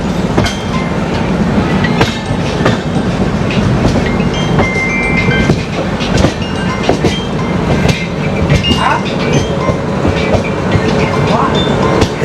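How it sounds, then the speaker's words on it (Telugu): Konark Express rolling through a turn past another train on zigzag tracks, with loud continuous rumble and dense clattering wheel clicks throughout. "ఈ టర్నింగ్లో ఒక ట్రైన్ క్రాస్ చేస్తున్నాం మనము."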